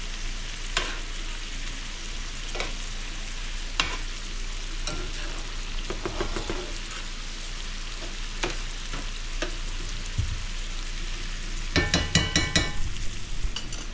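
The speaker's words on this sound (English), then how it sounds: "we need to stir that pasta" Crawfish pasta being stirred in a frying pan, a steady sizzle under scattered scraping clicks of the utensil against the pan, with a denser cluster of clatter near the end; no talking.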